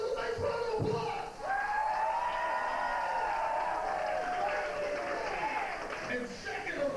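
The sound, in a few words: audience applause and cheering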